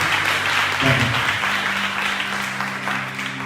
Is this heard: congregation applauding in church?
yes